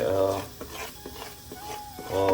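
Urad flour stirred with ghee in a pan for winter adadiya, a soft, continuous scraping of a spoon through the thick mixture with light sizzling and clinks, and brief voice-like tones at the start and end.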